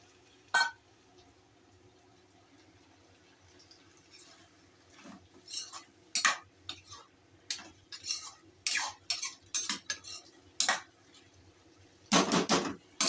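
A lid set onto a cooking pan on a home kitchen stove while prawns and pui shak cook, heard as clinks of metal and utensil knocks spread through the clip, ending in a louder clattering burst near the end.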